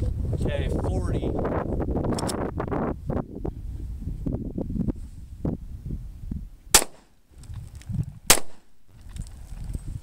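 Two sharp, loud gunshots from a Shield .40 pistol ring out well apart outdoors, amid wind noise on the microphone and someone talking throughout.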